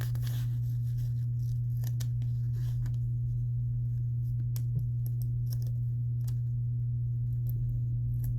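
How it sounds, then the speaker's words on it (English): Book pages turned during a scripture reading, heard as soft, intermittent papery rustles and flicks over a steady low electrical hum, with no talking. "having trouble turning the pages."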